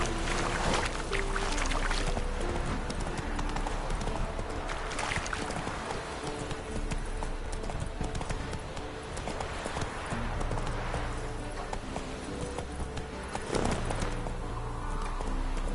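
Horse hooves clip-clopping in the video game The Witcher 3, a steady rhythmic trot running throughout, loud and close over a busy ambient game soundscape.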